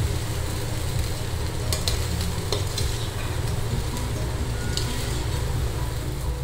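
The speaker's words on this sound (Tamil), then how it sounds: "அரிசி வந்து உடையக்கூடாது, ஸோ உடையாமல் கலருங்க" Cooked rice being gently stirred through cauliflower fried rice in a pan, a steady soft scraping and low sizzle running continuously, close and moderately loud, with a few sharper clinks of the spoon against the pan.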